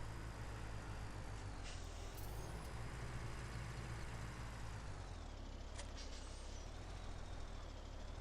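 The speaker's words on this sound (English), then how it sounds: "Bringing our twin star up so we can reposition our log truck." A log truck being repositioned on a farm rumbles with a loud, steady engine drone that runs throughout, with a couple of brief hissing bursts like air brakes partway through.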